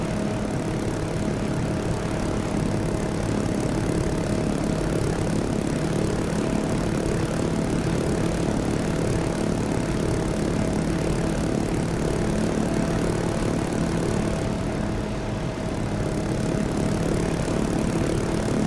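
An MD500 helicopter in the DCS flight simulator, a continuous even engine and rotor drone with a steady hum, loud and unbroken from start to finish with no voices.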